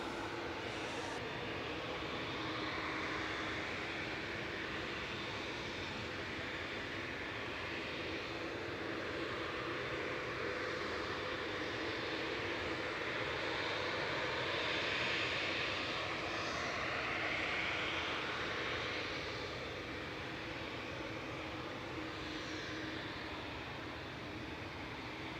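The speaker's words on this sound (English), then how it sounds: "Next to depart, Etihad 787-10. Dreamliner A6 BMF flight 16 heading to Abu Dhabi." Etihad Boeing 787-10 Dreamliner departing Manchester Airport for Abu Dhabi, a faint, distant, broad engine rumble and hiss holding steady throughout.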